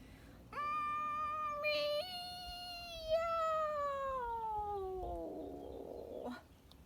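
A cat lets out a long, loud, drawn-out yowl after losing its balance, the pitch wavering and sliding downward before a brief rough ending.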